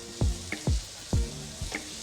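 Minced cooked beef is stirred in a hot pan over a low flame. A soft steady sizzle sits under four sharp scraping strokes of a spoon against the pan.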